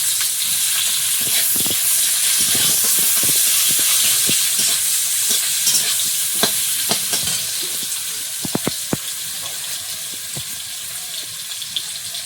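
Chopped onion sizzles in hot oil with black cumin for a Bengali prawn curry, a steady loud frying hiss with scattered spatter pops and a few sharp spoon clinks near the end, no voices.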